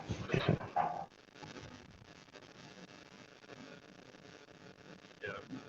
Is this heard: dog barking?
yes